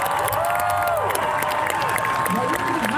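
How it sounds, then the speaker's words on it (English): An outdoor crowd at a Renaissance faire applauds and cheers the war horses of a mounted show, dense steady clapping that continues throughout while an announcer's voice carries over it. "How about a nice round of applause for our war horses?"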